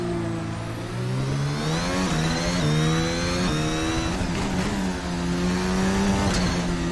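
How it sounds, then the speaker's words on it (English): A race car engine screams steadily in a VR racing sim, rising through the revs with shifts and brief dips, loud and continuous with a faint tire squeal and no talk over it. "This car is a lot more agile than the Formula Hybrid."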